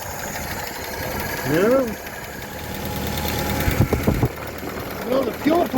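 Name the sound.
engine of a car sitting 28 years running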